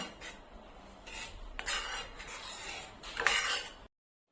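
A spoon scrapes and swirls around a metal pot of milk simmering on low heat for kulfi, in a few short bursts, close and fairly soft, with brief pauses between strokes.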